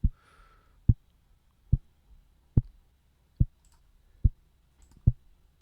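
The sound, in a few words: synthesized kick drum from MiniSynth in FL Studio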